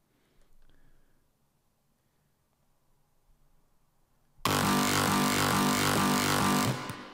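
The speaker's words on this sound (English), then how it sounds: "So then I wanted to add 2 sort of ambience, so like texture track." A dark ambient texture track built from an Ableton rack: after a near-silent lead-in, a loud, dense, noisy wash surges in abruptly and holds steady before cutting off.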